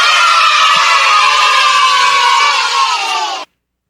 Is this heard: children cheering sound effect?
yes